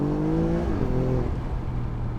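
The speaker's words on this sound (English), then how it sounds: "You hear this little hint of turbo blow-off noise and these just blats and bangs." An Alfa Romeo Giulia Quadrifoglio engine revs and drops in pitch between gear shifts, with brief blats and a hint of turbo blow-off, loud and close, no talking.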